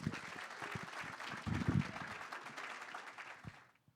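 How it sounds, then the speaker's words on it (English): Audience applause at a virtual talent hunt program, moderately faint and textured, with a few heavier clap clusters in the middle before it dies away into quiet. "Let's applaud Tatiana Toliver Hughes"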